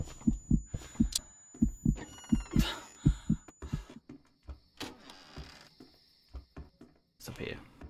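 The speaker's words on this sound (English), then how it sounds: "Does the heartbeat need to be somewhere?" A heartbeat effect thumps in a steady double-beat rhythm in the horror video game Home Sweet Home, alongside other game sounds and a thin electronic tone.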